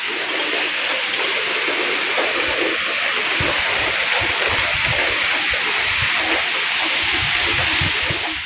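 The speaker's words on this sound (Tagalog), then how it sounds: "Biglang umulan" Steady rain hisses continuously, with patters and splashes dotting the dense wash of noise throughout.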